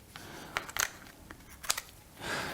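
Scissors snip and trim along the edge of a paper flap on a flat pack, giving a few short, crisp cuts close by in a quiet room, followed by a soft rustle of paper.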